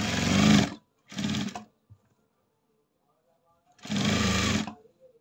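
Sewing machine stitching a blouse, three short close bursts of machine running separated by pauses, alone without talk.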